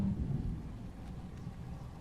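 Wrathful Rain attack effect in the PS4 game Othercide, a low rumbling wash like heavy rain and distant thunder, steady and moderately loud for about two seconds with no talk.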